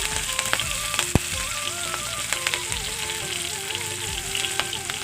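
Panch phoron and dried chillies sizzle loudly in oil left over from frying fish, a steady crackling hiss with sharp pops and occasional stirring scrapes, close and without talk.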